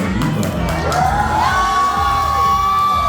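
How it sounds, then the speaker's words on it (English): A drag competition audience cheers, whoops and shouts in a loud, continuous wash of crowd noise, with a long sustained high yell rising above it. "Make the noise for Eva."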